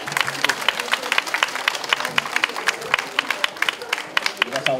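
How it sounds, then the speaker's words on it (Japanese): Spectators applaud after a traditional Japanese lion dance performance at a folk arts summit, clapping continuously and fairly close with distinct individual claps, alongside crowd murmur and some voices. "拍手お願いします。"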